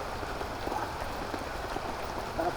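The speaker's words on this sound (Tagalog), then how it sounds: "Lakas ng ulan." Heavy rain falling outdoors during a birthday celebration, a dense, steady patter of drops on surfaces that fills the whole stretch, close and constant.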